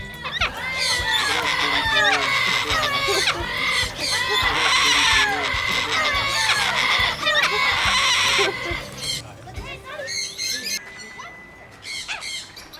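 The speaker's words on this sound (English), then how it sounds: "Each day begins with a dawn chorus." A loud, dense dawn chorus of birds at a tropical campground, squawking, clucking and chattering continuously, with some calls close and others overlapping further away.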